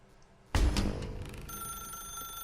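A telephone rings in the video game The Stanley Parable, starting abruptly with a loud burst and then settling into a sustained electronic ringing tone at moderate level, with no talking.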